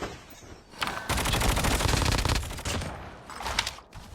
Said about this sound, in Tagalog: May tao doon, bumabaril siya eh, oh.